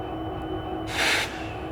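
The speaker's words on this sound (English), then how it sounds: "3 SD70M-2s and an ES44DC sitting there idling away" Low, steady rumble of diesel locomotives idling, three SD70M-2s and an ES44DC, with a brief hissing burst of air partway through.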